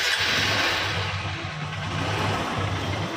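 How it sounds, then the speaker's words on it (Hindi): A Honda CB Unicorn 160 motorcycle engine with a misfiring and pickup problem runs steadily at a low idle, a continuous mid-pitched rumble with no voices. "अब चलिए बाइक को आपको स्टार्ट करके दिखाता हूँ आपको।"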